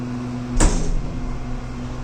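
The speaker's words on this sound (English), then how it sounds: "So now we're on the door open limit, and it closes back up." Dover DMC hydraulic elevator doors close with a single thud as they meet, followed by a steady mechanical hum and low room drone.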